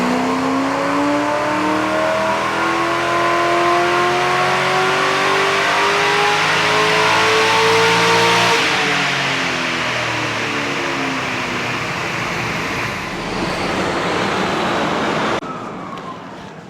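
A Holden VT Berlina with an LS1 V8 revs hard on a dyno run, a loud, sustained climbing engine roar with rising harmonics that peaks midway, then holds at full throttle before easing off near the end.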